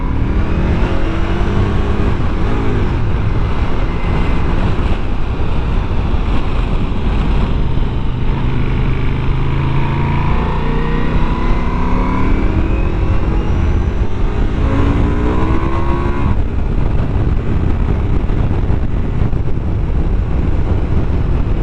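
A Ducati Multistrada V4 Rally motorcycle engine revs high and steady on a muddy route, loud and close throughout with heavy wind rush over the microphone and no talking.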